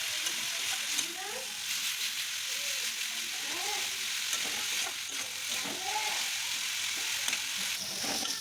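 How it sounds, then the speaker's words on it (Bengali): Ground spices with onion, chili paste, cumin, coriander, turmeric and salt sizzle steadily in a pan for egg curry, with scraping stirs recurring throughout, fairly close and constant. "ভালো করে মশলাটা কষানো হয়ে যাচ্ছে।"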